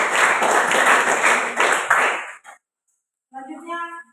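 A classroom audience claps for a group's presentation, a dense burst of applause lasting about two seconds that then stops abruptly, followed by a short bright chiming tone after a pause.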